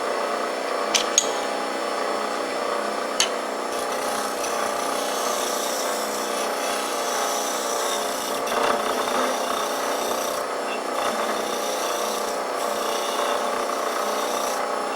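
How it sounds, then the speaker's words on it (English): Wood turning on a lathe with a spindle roughing gouge, a steady close whir of the spinning workpiece overlaid with a continuous scraping cut, broken by a couple of sharp ticks near the start. "I'm going to use the roughing gouge, spindle roughing gouge."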